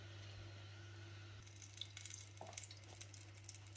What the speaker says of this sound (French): vous mettez vos petits pains bad boots sur une poêle chaude.